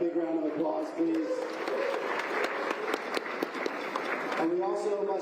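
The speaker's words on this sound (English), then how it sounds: "Let's give them a big round of applause, please." Crowd applause at an outdoor trail race gathering in a mountain village, sustained clapping and cheering across the middle, with a person talking before and after it.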